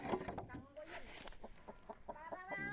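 Chickens cluck in short repeated bursts nearby, with a person's voice mixed in among the calls.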